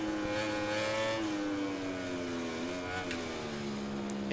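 Racing motorcycle engines in the MotoGP 2020 game scream steadily at high revs, the pitch sliding down as the rider brakes for a corner and then holding, loud and unbroken, with a faint second bike underneath.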